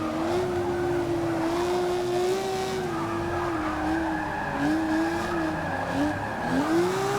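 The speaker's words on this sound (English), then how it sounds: "Looks like we're all kind of drifting this turn here." Ferrari 250 California cars drift through a turn in a Class C Forza 6 multiplayer race, tires squealing in long wavering pitched screeches over a steady engine drone, loud and continuous throughout.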